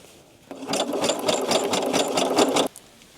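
A cover stitch sewing machine stitches down folded elastic on a garment, a rapid steady mechanical chatter running for about two seconds, close and clear, starting and stopping abruptly.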